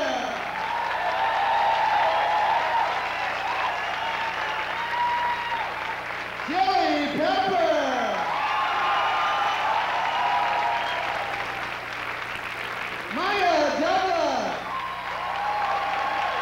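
Audience applause fills a live show with several performers, a steady sustained clapping from a crowd, while an amplified voice sings or calls over it twice.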